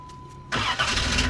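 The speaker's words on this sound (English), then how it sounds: "He's going to start the car." Dodge Dynasty car engine cranking and catching, starting abruptly and settling straight into a loud, steady close-up idle with a brief surge.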